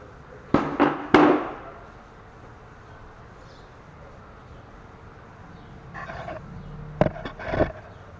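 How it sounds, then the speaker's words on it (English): Plastic engine cover on a 2008 Dodge Caliber 2.4L being pulled off its friction-fit knobs, a few sharp close pops and clunks in two short clusters with quiet pauses between. "Just got to pull this cover off."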